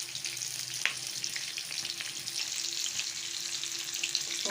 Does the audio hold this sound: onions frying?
yes